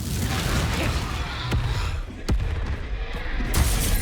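Fiery Confringo spell blasts in a duel in Hogwarts Legacy, with sharp booming cracks landing at intervals over a constant rumbling battle din.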